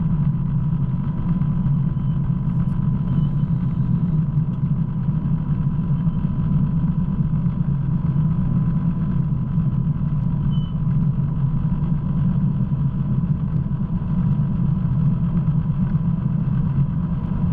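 A light aircraft's engine runs steadily while taxiing at an aerodrome near Paris, a constant loud rumble with a droning hum, continuous and unbroken for the whole stretch with no talk.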